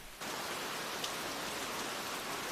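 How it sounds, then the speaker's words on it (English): Heavy tropical rain pours down in New Guinea, a dense, continuous hiss of a downpour that starts abruptly and holds steady and loud throughout. "When rain soaks New Guinea, nothing and no one escapes the deluge."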